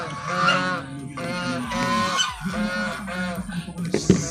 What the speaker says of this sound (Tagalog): Pati yung mga gansa ko ang iingay.